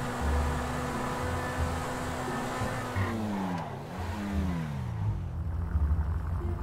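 A Volkswagen Golf in GTA 5 revs hard, its engine note climbing and dipping through gear changes with tire squeal and skidding, loud and close with no talk.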